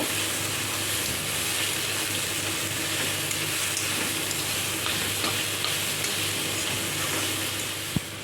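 Grated coconut with sugar sizzles steadily in a hot kadai (wok) while being stirred, a continuous close frying hiss broken by light scraping and a sharp tap near the end.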